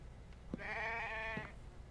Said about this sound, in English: I hear you, sheep.